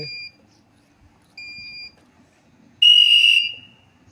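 Three separate whistle blasts ring out with quiet gaps between them: two fairly short, moderate toots and then a louder, harsher final blast that fades away.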